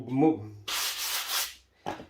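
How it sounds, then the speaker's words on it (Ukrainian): A small block runs over decorative black lava plaster in one steady broadband rubbing pass of about a second, with a short second stroke following, close and fairly loud, after brief talk. "особисто я беру такий брусочок і просто отак пробігаю"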